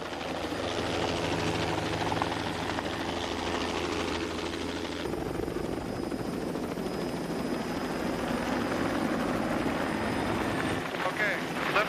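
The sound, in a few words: rescue helicopter hovering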